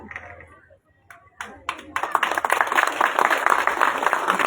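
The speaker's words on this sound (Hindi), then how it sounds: "आपके लिए तालियां बज रही हैं" A large crowd bursts into loud, sustained clapping at an outdoor political rally in Bahadurgarh, following a few scattered early claps after a voice speaks over a loudspeaker.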